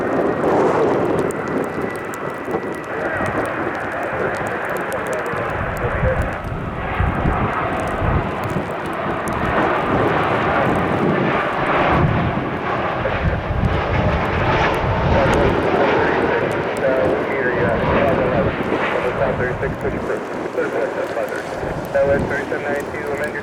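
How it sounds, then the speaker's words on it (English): Airbus A320neo jet aircraft at an airport in a winter storm, a steady broad engine roar that holds throughout with wind buffeting the microphone and faint talk underneath. "A320neo."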